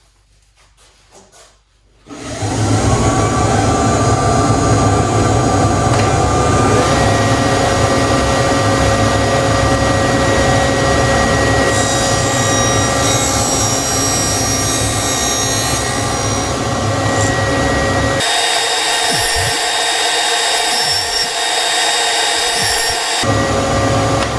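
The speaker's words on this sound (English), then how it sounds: "Let me show you how I cut these straight splines now with the dado stack and the difference it makes." A table saw with a dado stack spins up and cuts straight splines in wood, a loud sustained whine and roar that holds steady before shifting as the blade passes through the workpiece.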